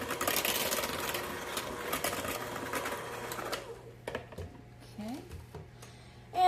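Boxed cake mix batter with added vanilla being mixed, a steady mechanical whirring that runs loud for about three and a half seconds, then stops, leaving only faint scattered kitchen sounds.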